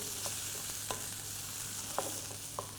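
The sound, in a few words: frying prawn masala in a pan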